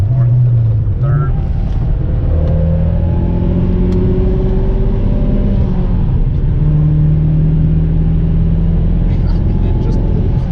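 Mazda Speed 3 hatchback pulling hard after downshifting through fifth, fourth and third, a loud droning engine whose pitch climbs steadily, with someone talking over it.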